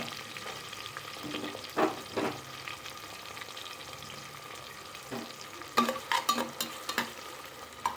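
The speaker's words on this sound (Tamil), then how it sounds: "இப்போ இந்த கட் பண்ணி வச்சுருக்க இந்த வெஜிடபிள்ஸை இதில் சேர்த்துக்கலாம்." Vegetables and tomato sautéing in a pan for vegetable pulao, with a steady low sizzle broken by scattered stirring scrapes and clatters, a busier burst of stirring near the end.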